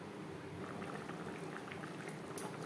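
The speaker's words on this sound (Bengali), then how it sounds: "এখানে আমি একটু গা মাখা ঝোল রাখবো, ফুটে ওঠা পর্যন্ত অপেক্ষা করব" A potato and soybean curry gravy simmering in a pot, a faint, even bubbling with soft pops throughout and no voices.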